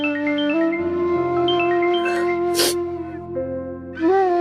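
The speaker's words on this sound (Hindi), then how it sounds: "बाबूजी का फोन।" A phone plays a melodic electronic ringtone in a Hindi TV drama scene, a sustained tune with shifting notes, loud and up front, broken once by a brief sharp burst of noise.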